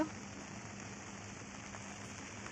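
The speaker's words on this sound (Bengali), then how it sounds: "বাইরে কিন্তু খুব বৃষ্টি পড়ছে" Steady rain patters outside in an even, continuous hiss, with no voices and no breaks.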